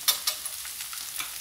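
Cashews and peanuts are stirred in a hot pan for onion chitranna, giving a soft sizzle under a few light clicks and scrapes from the stirring.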